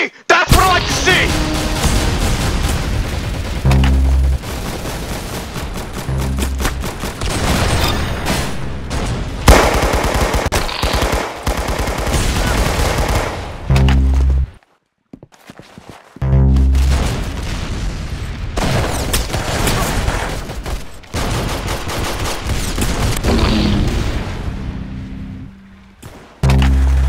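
Rapid gunfire and booming shots from the Roblox shooter game Arsenal, dense bursts of firing that run almost continuously with a few brief pauses and occasional speech underneath.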